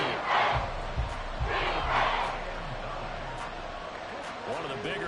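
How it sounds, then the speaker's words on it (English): A video game football stadium crowd in a Colts franchise mode roars and cheers steadily ahead of a big third down, with surging chants that rise and fall under play-by-play commentary. "the crowd getting into it as we come up on a big 3rd down"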